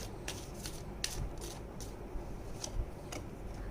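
Tarot cards being shuffled and drawn make soft, quiet flicks and snaps at an uneven pace over a low background hum.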